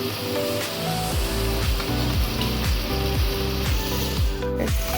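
Onion paste frying in a pan on a home stove, a steady close sizzle running throughout with rhythmic clicking mechanical ticks over it.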